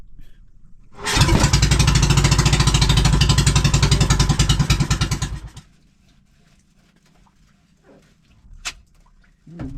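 A misfiring motorcycle engine roars loudly for about four seconds with a pulsing, uneven beat, then sputters and dies, leaving quiet background with brief faint noises.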